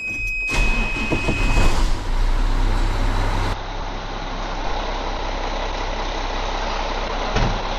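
A Mack truck engine starts with a burst and then idles steadily, a low rumbling drone close by with a brief clunk near the end.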